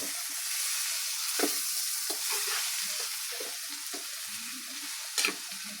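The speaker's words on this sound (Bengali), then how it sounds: "হলদি দিয়ে এগুলা নেড়ে চেড়ে এইভাবে নেড়ে চেড়ে দিব" Bitter gourd with turmeric sizzling steadily in a pan while being stirred, a continuous frying hiss broken by a few soft scrapes of the spoon, close and without speech.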